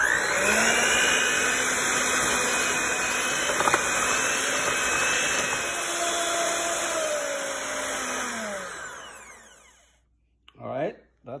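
An electric hand mixer runs loud and close for about ten seconds, whining steadily with small shifts in pitch as it beats butter, eggs and sugar into a foam, then switches off to brief clatter.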